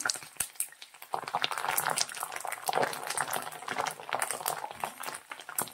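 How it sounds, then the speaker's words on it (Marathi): Curry leaves fry in hot oil for a puffed rice chivda snack, giving a dense, crackling sizzle with sharp pops throughout, close and fairly loud with no talking. "कढीपत्ता आपण तळून घ्यायचा आहे"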